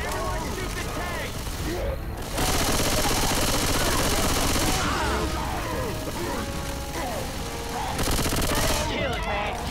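Sustained automatic gunfire aimed at the Tank in Left 4 Dead 2, loud, dense and close, with short breaks and voices calling out over the shooting.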